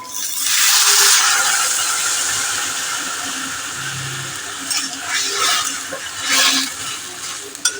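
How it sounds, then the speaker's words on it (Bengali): Water poured into a cooking pot of boiled chickpeas and potatoes for a curry, a loud rushing splash at first that settles into a softer hiss and bubbling, close by. "এবার দেখুন জল দিয়ে দিচ্ছি।"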